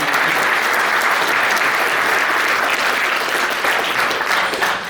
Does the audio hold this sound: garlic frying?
no